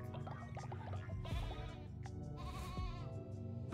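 Cartoonish sheep bleats from the video game Cult of the Lamb, two short wavering cries over busy game music and effects.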